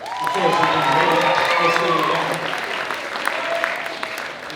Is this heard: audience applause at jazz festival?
yes